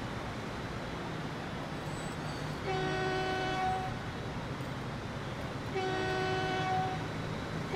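Trains running in Transport Fever on a U.S. map, a steady rail rumble broken by two clear multi-tone horn blasts, each lasting about a second, the second arriving a few seconds after the first.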